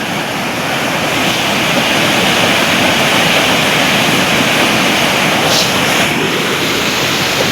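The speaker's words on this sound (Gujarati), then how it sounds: "તમને બસ પાણીનો જ અવાજ આવતો હશે" Loud, constant roar of rushing floodwater in Vagdod village fills everything, a dense unbroken torrent close by with no other sounds standing out.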